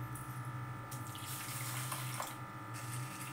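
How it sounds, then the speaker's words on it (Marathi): Lentils for dosa batter being rinsed in water before soaking, with a steady rush of running water and sink splashing throughout, fairly close and without talk. "ह्या धुवून भिजत घालते"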